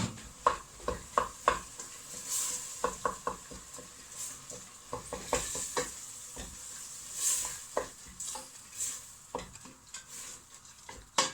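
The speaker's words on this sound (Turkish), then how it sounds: "Hemen 2-3 dakikada bu şekilde kavuruyorum." Ingredients being sautéed in a pan, with repeated close stirring scrapes and clinks over a soft, steady sizzle and no talking.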